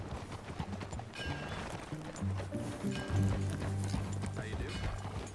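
Horse hooves clip-clop at a steady riding pace in Red Dead Redemption 2, fairly close, with a brief whinny and a tonal game score running beneath the hoofbeats.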